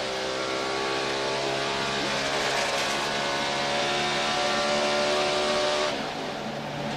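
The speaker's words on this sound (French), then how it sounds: "On écoute le moteur, évidemment." NASCAR Sprint Cup stock car engine at Pocono roaring loudly and steadily at high revs for several seconds, a continuous droning tone that eases slightly at the end.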